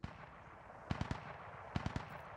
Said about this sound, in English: And shots fired in.